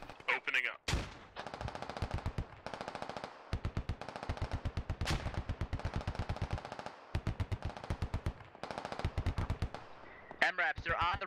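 Machine guns in the tactical shooter game SquadOps firing long rapid bursts separated by short gaps, loud and close, with brief radio-like voice fragments near the end.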